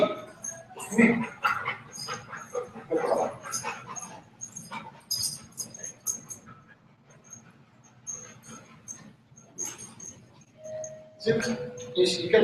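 A dog barks in scattered short bursts mixed with whimpers and yips, close by, alongside people talking across most of the stretch.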